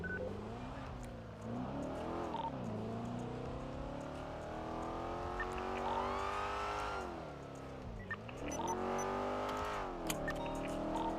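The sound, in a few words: car driving and revving in video game GTA 5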